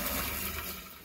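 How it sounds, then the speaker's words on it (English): Water pours steadily into an RV black holding tank being filled to the top after an epoxy repair, a broad, continuous rushing splash that holds for the whole second before easing slightly. "I'm gonna fill it all the way up and see what happens."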